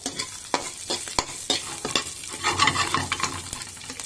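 Onions sizzling in a kadhai as a spatula clacks and stirs them in quick, uneven strokes, with the frying hiss swelling louder toward the end; close and fairly loud.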